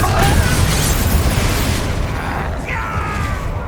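Loud, dense crackling blast and rumbling debris from an explosive fire spell in the Hogwarts Legacy video game, a sustained roar with a brief whooshing tail near the end.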